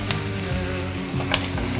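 Meat frying in a hot pot fills the clip with a steady sizzle, a dense crackling hiss with a few sharper pops over a low hum, close and even in loudness.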